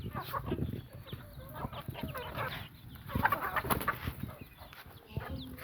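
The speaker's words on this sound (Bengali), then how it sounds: "মুরগিগুলো অনেক সুন্দর" Native village chickens cluck softly and steadily while feeding together on a farm, with scattered pecking and shuffling noises and a few sharper calls rising out of the flock.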